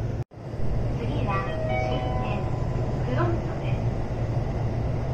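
A train pulling away from a station on a line in northern Japan, a steady rumble with a rising motor whine and a brief sharp break near the start, heard from on board.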